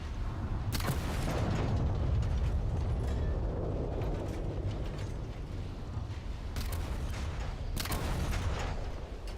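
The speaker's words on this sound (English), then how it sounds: "Just trying to learn the range of the cannons here." Game cannons fire in a sandy extraction playtest, with sharp booming shots near the start and again late, over a steady grinding, creaking mechanical rumble.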